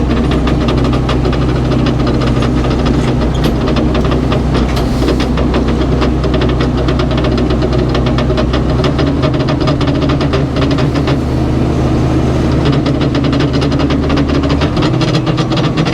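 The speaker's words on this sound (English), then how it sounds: "Hydraulics are a little noisy here, and it'll warm up in a few minutes" A sawmill's hydraulics run noisy and cold while clear white oak logs are custom sawn, a steady loud mechanical drone with knocking, engine-like rumble throughout, shifting in pitch near the end.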